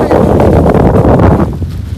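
Strong wind buffeting outdoors in rainy weather at Nellarachal, Wayanad, a loud continuous rumbling roar that eases slightly toward the end.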